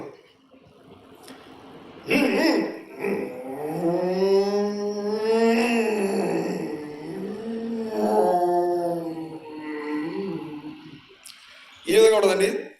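A mimicry artist voices a sports bike engine as a revving, pitch-sliding drone that rises and falls over several seconds, close and fairly loud, ending in a short burst.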